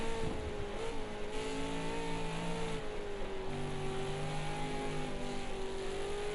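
A supercar engine in a racing video game drones and revs continuously around the Dubai Autodrome circuit, pitch rising and dipping through gear changes, steady and moderately loud with no talk.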